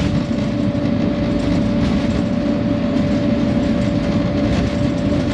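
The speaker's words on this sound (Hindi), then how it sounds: "रेलवे के जो लोकोमोटिव्स हैं वो पानी को उड़ाते हुए यहाँ से गुज़रते हैं" A Pakistan Railways locomotive runs along the line near Kot Lakhpat, Lahore, a loud steady rumble with a constant tonal whine and rhythmic wheel clatter heard from close aboard.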